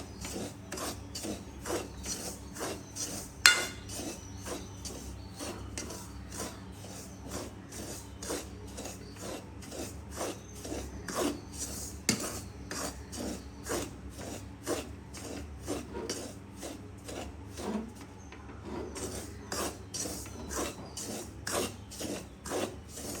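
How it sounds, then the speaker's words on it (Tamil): Semolina (rava) dry-roasts in a pan for ladoo while a spoon stirs it steadily, producing a long run of regular scraping, rasping strokes, close and moderately quiet, with no talking. "ரவையை ஒரு 3 நிமிஷத்துக்கு நாங்கள் வடிவாக வறுக்க."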